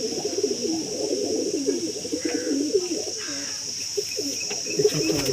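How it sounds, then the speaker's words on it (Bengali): A male pigeon coos close by in a continuous, rolling, throaty warble, while a thin, steady insect drone runs underneath the whole time. "এটা নর পায়রা,"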